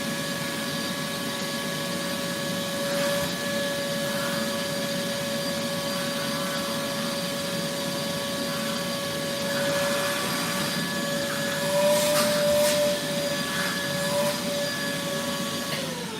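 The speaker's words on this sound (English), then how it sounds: "I'll wait till the vacuum's done." Steady vacuum cleaner drone carrying a sustained whine that holds throughout at constant loudness, running alone with no talk over it.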